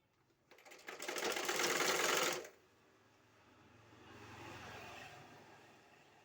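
A sewing machine stitches cloth in a loud, fast whirring burst for about two seconds, then stops, followed by a quieter, slower run of stitching in the background.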